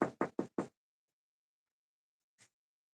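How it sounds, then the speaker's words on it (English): Four quick knocks on glass in a steady rhythm, crisp and close, then silence and one faint tap about two seconds later. "Sounded like I was knocking on glass."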